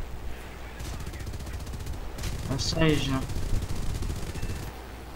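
Anti-aircraft gunfire in a flight combat video game, a steady wash of rapid distant shots that swells briefly in the middle, with a person talking over it.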